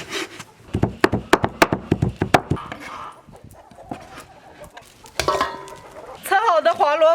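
Mutton being chopped for dumpling filling gives a quick series of sharp, loud knife thwacks on a wooden board, followed by quieter scraping and a voice speaking briefly near the end.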